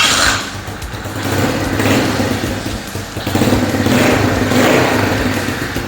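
Small Thumpstar TSK 50/90 motorbike engine running close by, loud and steady with a fast buzzing idle and a few light rises in revs throughout, no talking.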